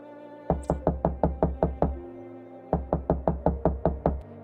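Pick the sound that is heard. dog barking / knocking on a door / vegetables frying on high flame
knocking on a door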